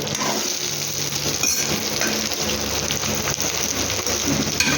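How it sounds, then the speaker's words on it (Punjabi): Sliced ridge gourd frying in hot oil in a pan, a dense, steady sizzle and crackle like heavy rain, loud and close throughout with no talk. "ਪਹਿਲਾਂ ਤੋਰੀਆਂ ਤਲ ਲਓ"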